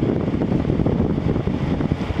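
An LG ThinQ 10000 BTU window air conditioner, fitted with a replacement capacitor, runs with a steady low rumbling fan whoosh, loud and close with no pauses.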